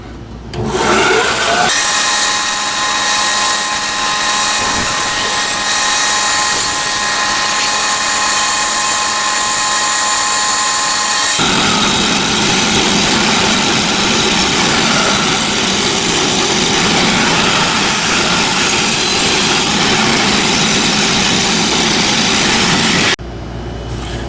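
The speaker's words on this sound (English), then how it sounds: "we're going to do the half lap on the bandsaw" A bandsaw cuts a half lap joint in a small piece of wood, a loud steady motor whine that turns rougher and grittier once the blade bites into the workpiece, running continuously before stopping.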